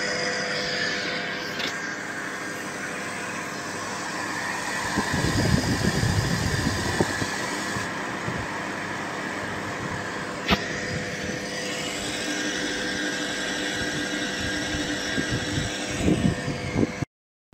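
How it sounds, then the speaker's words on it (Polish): A steady mechanical drone of an Ursus tractor engine running at 2900 rpm throughout, a constant hum with a brief rougher low rumble in the middle and no voices. "silnik ma 2900 obrotów."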